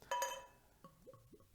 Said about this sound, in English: So let's go ahead and get this poured into the glass here.